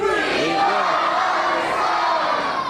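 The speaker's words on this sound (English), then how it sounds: "I want you to scream at the top of your lungs, "We love Oliver Stone!"" A theme park show audience at a Universal or Disneyland attraction shouts a phrase together at full volume, a loud, sustained massed yell of many voices lasting nearly three seconds.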